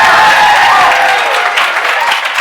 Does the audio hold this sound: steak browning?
no